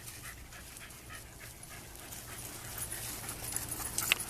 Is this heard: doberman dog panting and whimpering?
yes